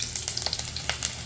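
Mustard seeds and chopped shallots fry in hot coconut oil in a clay pot, giving a quiet, continuous sizzle dotted with sharp crackling pops from the seeds.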